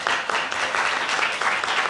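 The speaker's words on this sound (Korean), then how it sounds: "여러분들 박수 한번 좀 부탁드립니다" An audience at a 2019 Jeju Forum peace-city session applauds its speakers, a steady, dense wash of clapping throughout.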